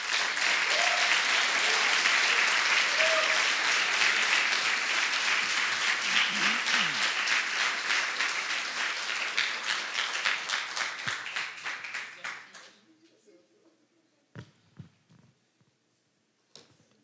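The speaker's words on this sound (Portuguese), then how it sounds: "eu quero convidar a igreja para nós aplaudir bem forte ao nome de Jesus" A church congregation applauds loudly and steadily for about twelve seconds, a dense wash of many hands that fades out, followed by a few scattered claps and small noises.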